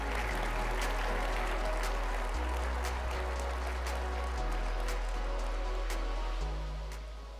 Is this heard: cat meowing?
no